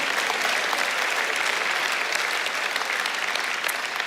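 Audience applause in a church gathering where a class claps together, a dense, steady wash of many hands held at an even level for about four seconds with no talk over it.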